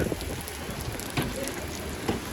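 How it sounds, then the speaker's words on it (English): A heavy rain downpour at a water park during a lightning storm, dense and steady hissing patter on surfaces throughout, with no clear talk. "it is downpouring"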